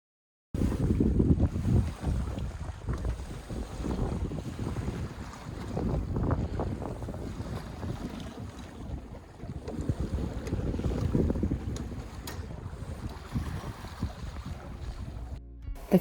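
A sailboat makes an overnight passage toward Fiji's Lau group under southeasterly trade winds, with steady wind rush, buffeting across the microphone and the wash of water against the hull, continuous and fairly close throughout.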